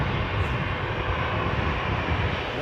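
A Loganair ATR 72-600 turboprop takes off from Edinburgh for Kirkwall, its engines a loud, steady roar that holds unbroken throughout.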